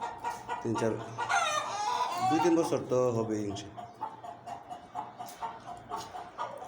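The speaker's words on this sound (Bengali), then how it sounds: "এগুলা মোরগগুলা দেখে মুরগিগুলারও অনেক বয়স হয়ে গেছে" Aging hens and roosters kept at a backyard coop in Saudi Arabia clucking and squawking nearby, with a loud burst of calls early on, while someone talks over them throughout.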